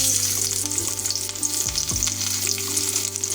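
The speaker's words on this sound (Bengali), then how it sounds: "এই গরম তেলের উপরে আমরা যোগ করে দেবো প্রায় 1 টেবিল চামচ রসুন কুচি" Chopped garlic sizzles steadily in hot mustard oil, a loud close frying crackle with a brief stirring scrape partway through, no voices.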